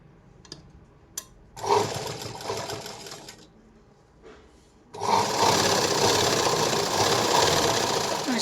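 A sewing machine stitches a lined blouse, first in a short burst of whirring that trails off, then, after a pause with a few small clicks, in a louder, sustained run of close, even stitching.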